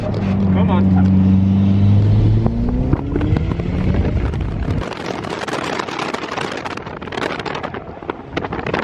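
Mitsubishi Evo (turbocharged, around 400 whp) drifting on a race track, engine tones rising and falling early, then a loud roaring rush of wind and road noise, with a voice talking over it.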